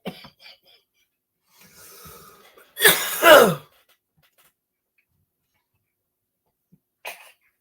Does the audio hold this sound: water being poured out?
no